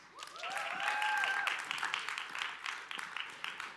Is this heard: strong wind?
no